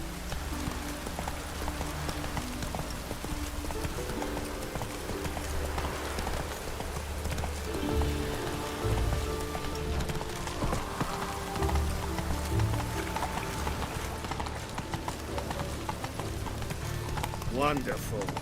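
Hooves of a horse ride along in The Witcher 3 at a steady pace amid rainy ambience, with voices talking over much of it and game music or effects sitting in the mix.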